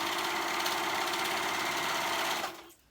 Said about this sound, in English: I'm going to go ahead and sew those raw edges together right here to make it a continuous band